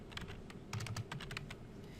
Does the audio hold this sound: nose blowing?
no